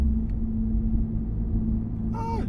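Low, steady road rumble from Toyo R888 tires on a coasting 550 hp twin-turbo Infiniti G35 coupe, a quiet droning hum heard from inside the car, with a brief higher chirp near the end.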